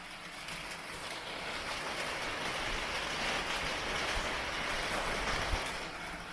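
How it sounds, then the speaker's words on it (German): Rain pattering on a carport roof, a dense continuous hiss that holds steady and fairly loud throughout, with no voices. "der Regen prasselt aufs Carport"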